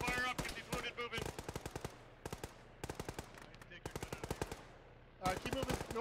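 Machine-gun fire in a military video game, repeated rapid bursts of sharp shots with brief pauses between volleys, loud and close.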